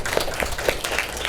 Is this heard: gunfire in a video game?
no